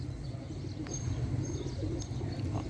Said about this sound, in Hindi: ये पहला इनका ये है टैडी कबूतर